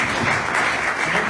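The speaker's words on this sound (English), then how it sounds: "Please give a round of applause to my good friend, Miss Faith Krinsky." Audience at a cinema arts event breaking into loud, dense applause, a brief burst of close clapping from a crowd with no talking.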